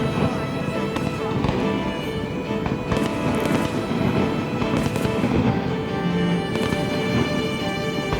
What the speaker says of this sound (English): watching fireworks over Niagara Falls in the dark